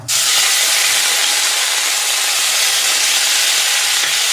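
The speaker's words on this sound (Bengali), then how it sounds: "এবার আমি তেজপাতাটা দিয়ে দেবো পেঁয়াজ বাটা" Bay leaf and onion paste hit hot oil in a pan, giving a loud, steady, close sizzling hiss that starts abruptly and continues unbroken, with no voices.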